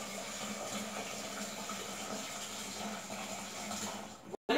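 A cooking pot being filled with tap water for making beans, a steady rushing, splashing stream that runs throughout and cuts off abruptly near the end.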